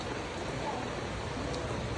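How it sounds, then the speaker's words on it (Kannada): Rain pouring onto a road, a dense, even hiss that holds steady throughout. "ಮಳೆ ಬರ್ತಾ ಇದೆ ಅಲ್ಲ"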